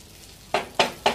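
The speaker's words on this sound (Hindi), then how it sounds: "अब ये अब दूसरे तरफ से इसको फ्राई करेंगे" Fish pieces turned over in a pan of hot oil give three sharp bursts of sizzle and spatter, each rising suddenly and then easing off, over a quiet kitchen background with no talk.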